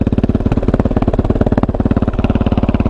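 Kove 450 motorcycle with a Dominator exhaust idles close by, a loud, rapid, even single-cylinder thump pulsing steadily throughout with no voices.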